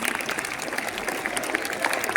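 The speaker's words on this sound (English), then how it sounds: "We request the audience to encourage each team with a big round of applause" Faint, distant applause from an audience at a school event before a Grade 10 skit on Julius Caesar, a soft continuous patter of clapping with a slight crowd murmur.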